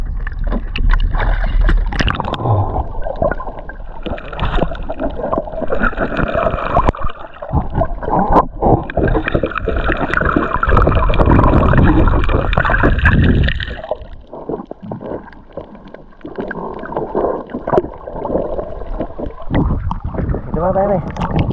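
Strong wind roars across the microphone aboard a small boat at sea, loud and buffeting throughout, easing briefly then gusting again, with people talking over it.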